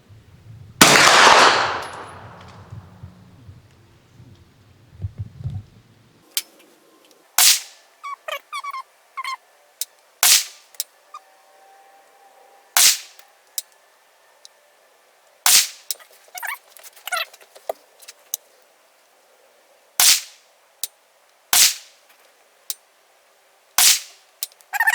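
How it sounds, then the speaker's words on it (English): A Jard J68 bullpup pistol caliber carbine fired from a bench rest outdoors, firing about ten sharp, loud gunshots at irregular intervals, each one cracking cleanly against a quiet background after a brief burst of noise at the start. "We'll each shoot 5 shots, so a total of 10 shots between 2 shooters from the Caldwell rest."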